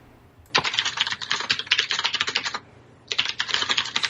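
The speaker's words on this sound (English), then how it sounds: "I have a mechanical keyboard" Rapid clacking keystrokes on a mechanical keyboard in a home office, close and crisp, in two bursts of about two seconds and one second separated by a short pause.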